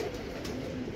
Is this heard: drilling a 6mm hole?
no